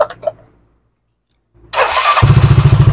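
A Yamaha Mio Soul scooter with a fault in the ignition coil's positive wire starts on one press after brief clicks and a pause, catching quickly and settling into a loud, close, pulsing idle.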